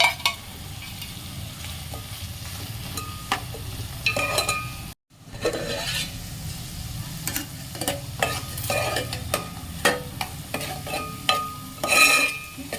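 Capsicum and fried dry fish stir-fried together in a pan, with a steady sizzle and repeated scraping and clinking strokes of a spatula against the metal, close and fairly loud, briefly cut to silence midway.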